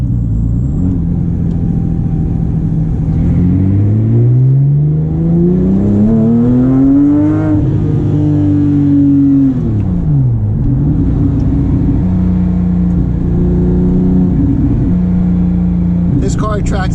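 A Porsche 997.2 GT3 RS flat-six with an aftermarket exhaust and an 8400 rpm redline, loud and close, revving through sweeping climbs and drops with big rev-matched blips on downshifts under steady road rumble.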